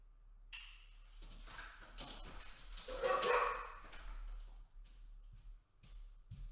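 A dog barks and yips several times indoors, fairly close, in a burst of irregular barks that trail off, with a low electrical hum underneath.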